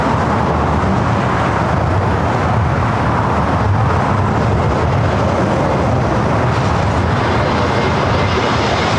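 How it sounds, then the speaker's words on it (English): Steady, loud, broadband roar of a Spirit Airlines Airbus A321neo on approach at LAX, a continuous engine and airflow rumble that holds constant throughout without pauses. "Do have a Spirit flight coming in from Newark, flight 2869. It's an A321neo next arrival."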